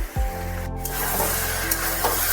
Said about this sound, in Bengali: বেগুনগুলো দিয়ে চচ্চড়ির সাথে ভালোভাবে একটু নাড়াচাড়া করতে হবে